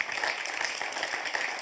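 Studio audience on a French TV quiz show applauding for UNICEF and its volunteers, a dense steady wash of many hands clapping at moderate level throughout, with no voices over it.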